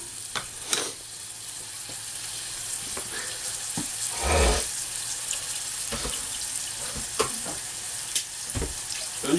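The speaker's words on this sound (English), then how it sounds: "We need to get a little spatula and just give that a little nice little turn around" Cherry tomatoes frying in a pan while being stirred with a spatula: a steady hiss and sizzle with soft scraping and occasional clicks of the utensil, close up, no talk.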